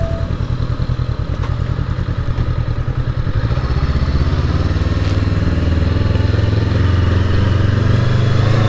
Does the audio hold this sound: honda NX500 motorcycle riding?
yes